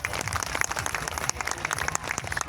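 An audience claps in applause, a dense, steady patter of many hands held at an even level for the whole short stretch, with no talk over it.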